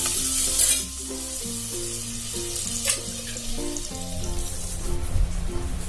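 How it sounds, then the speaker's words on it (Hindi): Butter and oil sizzling together in a hot kadai, a steady broad frying hiss with occasional scraping clicks of a stirring spoon, fairly close and without any voices. "इस कढ़ाई में हम 1 चम्मच मक्खन डालेंगे और साथ ही में हम 1 चम्मच ऑयल भी डाल देंगे।"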